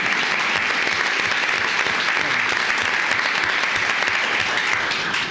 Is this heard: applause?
yes